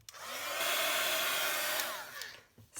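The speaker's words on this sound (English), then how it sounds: "I might blast it with my heat gun." A heat gun blows a steady, loud roar of hot air over freshly stamped ink on a dictionary page for a junk journal, running alone for about two seconds before cutting off.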